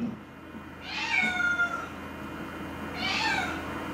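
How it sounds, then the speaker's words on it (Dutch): A cat meows twice in a quiet indoor room, a drawn-out mid-length meow followed after a pause by a shorter one, moderately close over faint background hiss. "mega poesie."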